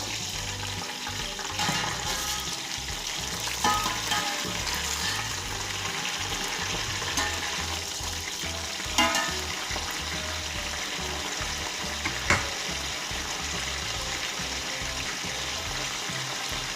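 Chicken pieces sizzle and fry in a pot along with green chilies and onions, a continuous loud crackling hiss broken by occasional scraping stirs and clinks.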